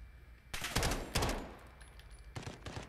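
Modern Warfare gunfire punching through wood: two dense bursts of rapid shots close together, then a shorter burst after a pause, loud and up close with no talking.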